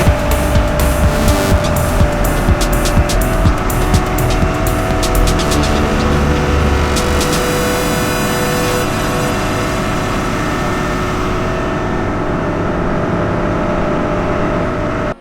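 Cars roll off a river ferry one after another, a steady loud engine rumble with passing vehicles, tire noise and sharp bursts early on, fading toward the end.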